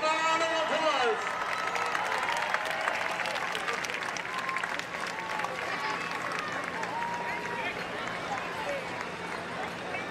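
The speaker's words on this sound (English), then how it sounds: "Give a round of applause." A grandstand crowd applauds at a county fair demolition derby, with dispersed outdoor clapping and cheering at a distance and a few high whistles early on. People talk over it throughout.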